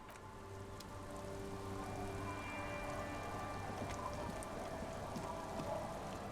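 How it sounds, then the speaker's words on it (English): Steady rain falls and patters on surfaces in the game Disco Elysium, a soft continuous wash with occasional distinct drips, no voices. "It's getting late, and it's raining."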